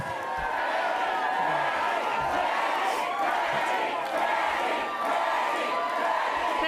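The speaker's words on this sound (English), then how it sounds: "It's a pretty quiet crowd tonight" A dense crowd of Labor supporters at an election night event roars and cheers continuously, a loud steady wash of voices and whoops with no pauses.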